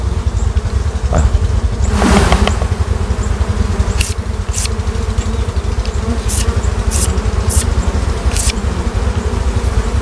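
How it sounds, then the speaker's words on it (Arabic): Honey bees swarm around hives at an apiary, a dense continuous buzz close by and fairly loud, with brief sharper buzzes as individual bees pass near. "احنا واقفين في وسط النحل اهو"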